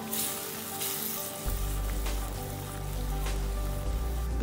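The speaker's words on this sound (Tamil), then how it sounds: "இது கொதிக்குது, கொஞ்சம் இந்த மசாலாலாம் கொஞ்சம் வேகணும்." A thick fish curry bubbles and sizzles in a pan, with soft popping and a steady low hum from a stove, no talking.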